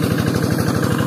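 A tractor engine idling after being started, a steady rapid low chugging throb that stays loud and even throughout.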